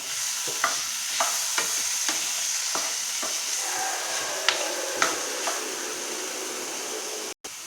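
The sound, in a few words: stirring golachi bhaji with salt in a pan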